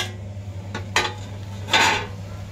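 A metal lid is lifted off a cooking pot of boiling cauliflower on a gas stove, with a couple of sharp clinks and a scraping clatter over a steady low burner hum.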